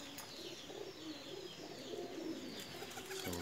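A female Teddy Pakistani pigeon coos in soft, low, repeated murmurs, faint and somewhat distant, with light chirps from other birds in the background.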